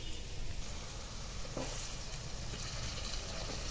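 Spring onion greens sizzle in hot tempering oil while cooking a quick vegetable dish, a close, steady crackling fry that continues throughout with faint stirring and no talk.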